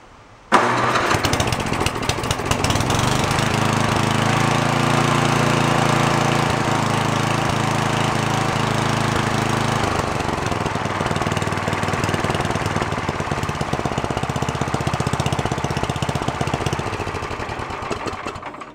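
A free, broken snowblower's small engine catches on its first pull and settles straight into a loud, steady idle close by, running unbroken to the end with no voices.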